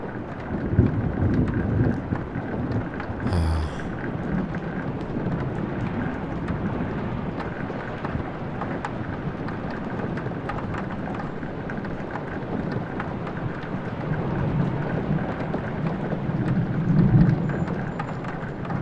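Steady, dense rain hisses throughout in the video game Flower, with low rumbling thunder swelling near the start and again toward the end, constant and fairly loud with no voices.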